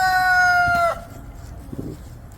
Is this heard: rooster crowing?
yes